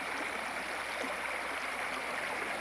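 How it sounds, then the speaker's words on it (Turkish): Steady, soft rushing of a flowing stream, continuous and even, with no voices. "Dere bu."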